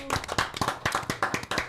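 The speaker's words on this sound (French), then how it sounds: "on peut l'applaudir bien fort si vous êtes d'accord" An audience claps at a French televised evening broadcast, a few close, sharp, uneven hand claps over nearly two seconds rather than a full roar of applause.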